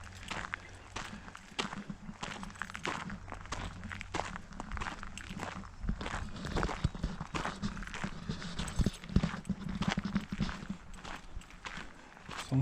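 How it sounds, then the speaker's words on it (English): Horses walk in Canada, hooves clopping at a steady, irregular pace on the ground, fairly faint and close, with little else over the dull outdoor background. "Some horses."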